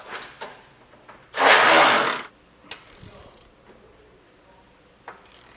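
A ratchet tightens bolts on a Curt custom base plate kit on a 2017 Chevrolet Equinox, one loud burst of rapid clicking followed by a few faint scattered clicks and metal taps nearby.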